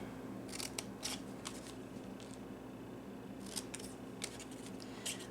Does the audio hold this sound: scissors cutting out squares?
yes